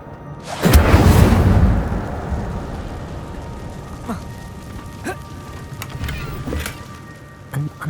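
An Incendio fire spell cast in Hogwarts Legacy inside a cave, a sudden loud whooshing burst of flame that roars for about a second and then fades, followed by quieter scattered clicks and ambience.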